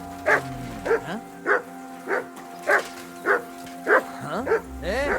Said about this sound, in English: Call off that dog, or I'll report you for being a public nuisance.